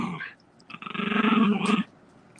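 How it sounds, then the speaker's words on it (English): A pet dog growls in a sustained, rumbling burst of about a second near the middle, fairly close, with a brief human vocal sound just before and quiet room tone around it. "That's my dog growling in the background."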